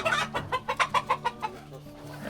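Fayoumi chickens clucking close by in a quick rhythmic run of about eight short clucks, then a quieter softer stretch.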